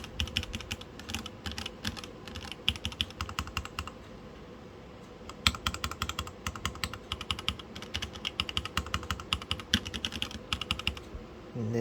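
Typing on a mechanical keyboard with Carbon Retro DSA-profile keycaps on lubed, filmed yellow switches: a fast, close run of crisp clacks in bursts with short gaps.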